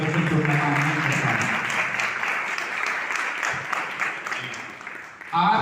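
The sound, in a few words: congregation clapping at a church service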